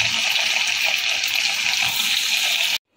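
Chicken pieces fry in hot oil in a wok, giving a steady, loud hiss and sizzle that runs on without a break and then cuts off abruptly.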